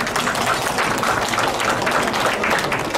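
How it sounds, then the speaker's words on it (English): A conference audience at an annual NGO event breaks into applause, a dense, even wash of many hands clapping that fills the room without pause for the whole stretch. "Give yourself an applause for even being here."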